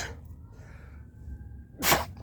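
A single loud, sharp sneeze bursts out near the end, after a stretch of quiet with faint background noise, recorded by a person in a garden.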